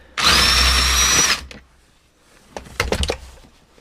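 A power tool spins a frozen strut nut on a Subaru Outback's rear strut, one loud steady whir of about a second, followed by a few scattered clanks and knocks of metal nearby.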